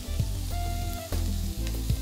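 Rice stir-fried in a pan with Maggi stock for shrimp fried rice: a continuous close sizzle with scraping stirring strokes and small utensil knocks against the pan.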